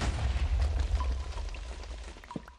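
A low rumbling blast in the video game Minecraft as something is blown up, a deep muffled boom with crackling debris fading out over a couple of seconds.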